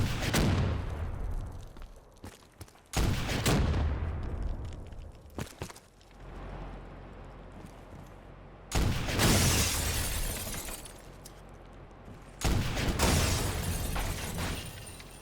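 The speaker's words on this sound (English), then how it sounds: "We also got some explosion sound effects that are apparently from Black Ops 3" Explosion effects borrowed from Black Ops 3 play in Garry's Mod: four heavy, loud blasts spaced several seconds apart, each with a sharp crack and long rumbling, debris-like decay between them.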